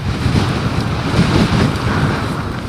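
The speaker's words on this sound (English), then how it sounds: "It's a tad blowy." Wind buffets the microphone over sand dunes as a steady, loud low rumble with no pauses.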